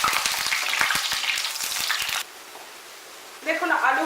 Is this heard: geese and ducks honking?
no